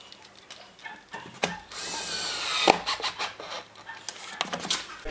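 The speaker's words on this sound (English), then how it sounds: "Don't go mad screwing it back because you'll just rip the fibres out of the wood" A power driver runs in one sustained burst and then a few short pulses, screwing a wooden false fence back onto a spindle moulder in a workshop, close and moderately loud.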